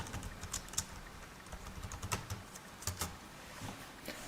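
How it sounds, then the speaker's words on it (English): Fingers tap out a web search on a computer keyboard, producing quiet, scattered key clicks over a steady background hiss. "go to Google and type in AutoZone"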